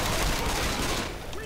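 Left 4 Dead 2 gameplay delivers a dense, loud burst of rapid gunfire that fills the short moment, with a voice faintly underneath.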